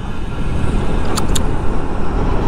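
Cars speed past on a road in Bayombong, Nueva Vizcaya, a steady loud roar of traffic with a brief hiss of tires or a horn-like chirp in the middle, no voices.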